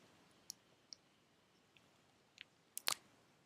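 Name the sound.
computer mouse click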